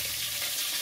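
Fish amino acid liquid is poured into a gallon container, giving a brief, steady, close splashing gush of liquid.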